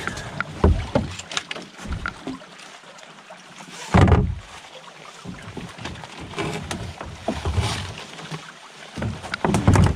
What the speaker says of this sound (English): Turn the canoe around so I can get over underneath another branch.